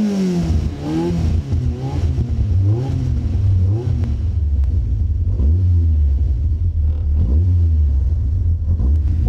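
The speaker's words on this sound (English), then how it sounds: "that's 180 horsepower of Rover K-Series engine" A Caterham Superlight sports car with a 180-horsepower Rover K-Series engine revs loudly and close by, its pitch climbing and falling in repeated bursts of throttle over a deep steady rumble.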